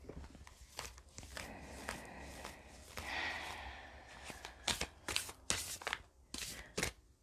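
Beyond Lemuria Oracle cards being shuffled by hand, a run of crisp riffling and snapping bursts at close range, irregular and quiet, with soft breathy sounds between them and no talking.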